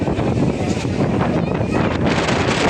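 Strong wind roars steadily across a microphone high up on the glass bridge at Kanyakumari by the sea, a loud, constant buffeting rush that fills the whole moment.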